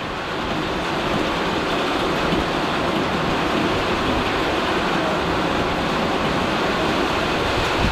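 Steady, dense hiss of rain pouring down, constant and fairly loud throughout with no breaks.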